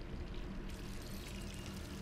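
Water runs steadily from a tap in a room in Resident Evil 3, a continuous soft pouring rush that stays quiet and even, with no other sound over it.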